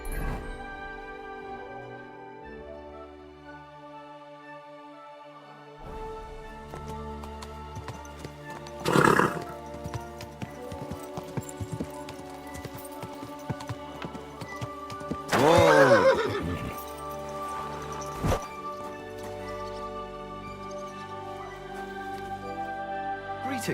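Horse in the video game Kingdom Come: Deliverance II neighing twice, two loud whinnies several seconds apart, with clip-clop hooves and game ambience underneath.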